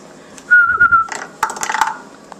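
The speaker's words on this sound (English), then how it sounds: "Oh, whistle." A whistle sounds a sustained shrill tone, then a burst of rattling, trilling notes with clinks, close and fairly loud with no talk.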